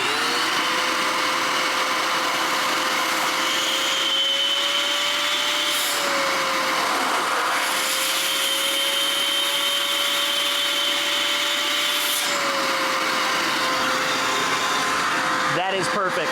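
A shop vac pulls air through a Dust Deputy cyclone separator, making a loud, continuous whining hum that holds steady for the whole stretch, with its pitch wavering slightly a couple of times.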